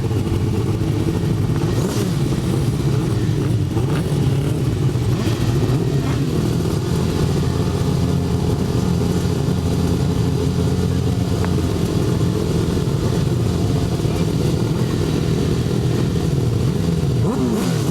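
A grid of 1000cc grasstrack sidecar motorcycles revs continuously at a race start, a loud, dense, rasping engine roar holding for the whole stretch.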